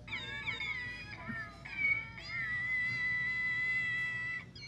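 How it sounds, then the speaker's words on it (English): A cat meows in several long, strained, wailing calls, the last one held for a couple of seconds, loud and close with no talk over it. "Is it supposed to meow?"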